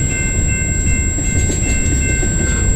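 A train on the Galt Subdivision in London, Ontario rumbles past close by with a loud, continuous rolling roar and a faint high steady whine above it.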